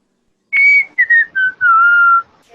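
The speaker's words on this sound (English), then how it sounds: "That was loud whistling" A person whistles loudly and close by in a short series of four clear, piercing notes, each gliding slightly downward, with the last held longest, set against silence.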